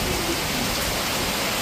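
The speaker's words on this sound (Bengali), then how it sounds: "এখানে ঝমঝমিয়ে বৃষ্টি হচ্ছে।" Heavy rain pours steadily during a storm, a dense, even hiss of falling water that stays loud and close without a break and carries no speech.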